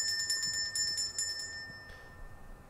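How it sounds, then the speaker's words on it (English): A hand bell rings in a backyard to call wild magpies to food, with rapid, bright, repeated clangs close by. The ringing stops partway through and leaves a fading tone over quiet outdoor ambience. "me ringing this annoying bell meant that dinner was served"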